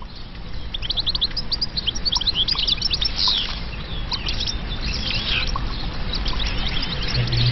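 A yellow sparrow near its nest in the Amazon gives rapid, repeated high chirps over a dense background of forest insects and birds, steady and moderately loud throughout.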